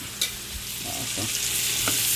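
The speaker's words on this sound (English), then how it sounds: "you know how to saute veggies, but I'm going to show y'all anyway" Vegetables sauteing in a pan in a home kitchen, a continuous close sizzle with a few sharp clinks and scrapes of a utensil stirring, growing fuller and steadier as the frying goes on.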